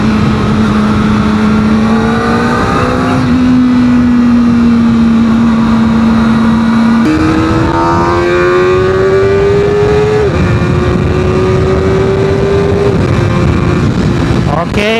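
Modenas ZX-4R SE motorcycle engine on a test ride, a steady high-revving drone rising through several gear shifts, loud and close under continuous wind noise, with a rider talking over it.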